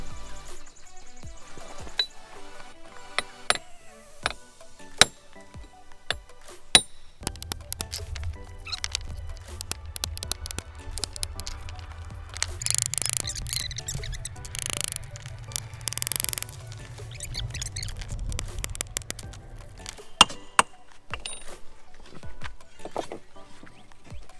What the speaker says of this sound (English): So you got to chisel that rock.